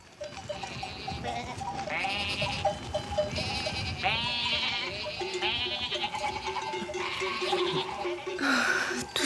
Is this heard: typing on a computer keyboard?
no